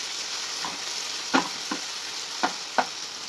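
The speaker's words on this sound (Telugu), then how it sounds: "వెల్లుల్లిపాయ పేస్ట్ మసాలా పేస్ట్ ఇలా కాసేపు వేగిద్దాం" Garlic paste and masala paste fry in a pan, giving a steady low sizzle punctuated by four or five sharp spoon scrapes and taps, close up.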